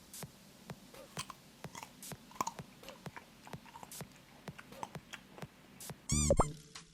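Close, quiet chewing and crunching in a repeated rhythm, recorded on a Fifine K658D microphone, with a brief louder rustle near the end.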